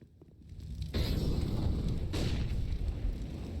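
Grenade explosions in a CS:GO esports match, a muffled boom swelling in and then a second burst, both loud and heavy, with a dense low rumble lingering throughout.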